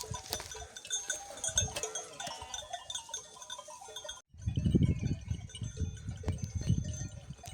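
Sheep and goats, including kids, bleating on and off in a mountain pen, with clanking and rustling, then a low rumbling stretch of animal noise and movement.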